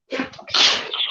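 A single sharp sneeze, close and loud, bursts out on its own with no talk over it.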